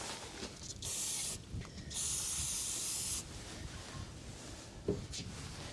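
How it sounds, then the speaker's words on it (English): Carb cleaner sprayed from an aerosol can onto a Gunwerks rifle bolt during cleaning: two close, loud hissing bursts with faint handling clicks between them and no speech. "I'm going to spray it off."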